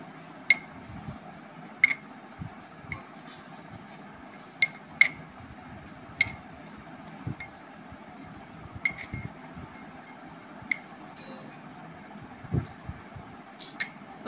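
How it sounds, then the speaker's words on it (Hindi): Hair dye ingredients being stirred in a glass bowl at home, giving a series of light, scattered clinks and taps of utensil on glass over a quiet background with no talking. "अब हमको यह मिक्स करना है"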